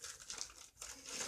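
Crinkly plastic packaging around a fidget spinner is cut open with scissors, giving a steady close crackle and rustle with a brief lull midway before the crinkling resumes.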